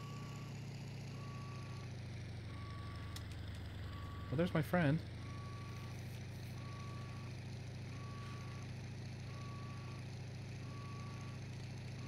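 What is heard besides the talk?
warning beeping, engine overheating, in video game IL-2 Sturmovik 1946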